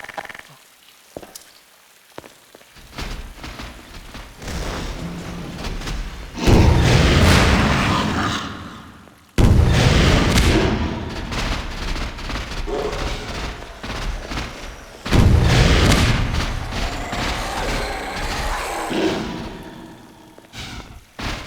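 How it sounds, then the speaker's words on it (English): Rocket blasts and heavy gunfire boom repeatedly during a battle with the Antlion Guard in Half-Life 2, with loud explosive bursts and crackling fire coming in waves over about twenty seconds, with no talk. "So we're going to try and take her out with rockets and the secondary fire."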